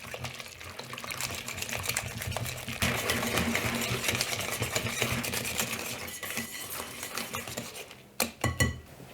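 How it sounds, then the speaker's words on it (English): Honey and butter mixture being mixed with eggs and vanilla for gluten-free chocolate peppermint cookie dough, a steady whirring mixer drone with rapid clicking, ending in a few sharp knocks near the end. "I'm going to add 2 eggs and 1 tablespoon of vanilla. And just mix this till it's really combined."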